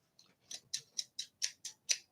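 Scissors handled and snipped, giving about eight sharp, evenly spaced metallic clicks in a quick, steady rhythm, close and fairly quiet, with no talk.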